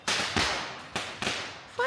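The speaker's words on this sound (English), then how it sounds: "firecrackers." Firecrackers going off outdoors during Chinese New Year in Fujian: several sharp, loud cracking bursts at irregular intervals, each trailing off into a noisy fading hiss.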